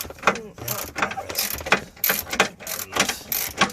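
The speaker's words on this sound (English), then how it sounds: "It's double geared, so I'm turning the handle. It's tightening that." A double-geared ratcheting tool handle turns while tightening a bolt on a 1994–2001 second-generation Dodge Ram front bumper, giving rapid mechanical clicking bursts close by, with some talk mixed in.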